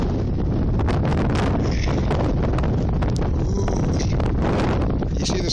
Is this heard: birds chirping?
no